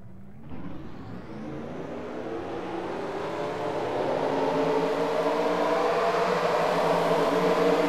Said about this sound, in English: So let's get the cars rolling off here.